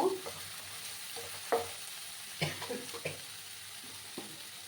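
Radhuni spice and pumpkin curry fry in a pan with a steady low sizzle, broken by several distinct stirring scrapes and clinks spaced a second or so apart, close by and fairly quiet.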